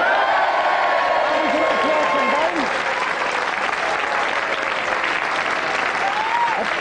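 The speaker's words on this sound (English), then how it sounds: "Give them a round of applause." Studio audience applauding three game show contestants, loud sustained clapping with some cheering and a few whoops, continuing steadily for nearly seven seconds.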